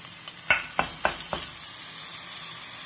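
Mustard, curry leaves and a red chili tempered in hot oil give a steady sizzle, with four quick spoon taps against the pan near the start, no talking.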